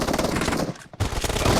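Rapid shotgun gunfire from the PUBG Mobile video game, a dense run of close, loud blasts that break off for a brief gap and then resume just as heavily.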